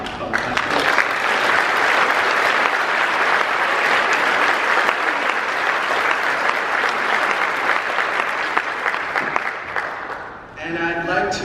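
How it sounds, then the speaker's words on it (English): Sustained applause from a large crowd at a high school commencement ceremony honoring the graduating class, dense loud clapping for about ten seconds before fading into a brief voice. "I'd like to take a moment to give a round of applause to my fellow classmates"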